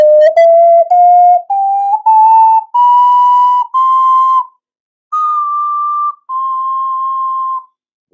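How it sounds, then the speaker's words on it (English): A ceramic ocarina plays a slow sequence of clear, pure whistle-like notes stepping upward in pitch, loud and close, with short gaps between notes and a longer pause before the last two held tones. "this is an Ocarina"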